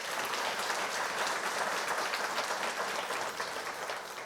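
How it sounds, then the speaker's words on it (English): A lecture-hall audience gives sustained applause for foundation members, a dense, even wash of many hands clapping at a moderate distance, tapering slightly at the end. "So let's give them another round of applause."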